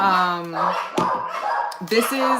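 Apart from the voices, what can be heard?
dogs barking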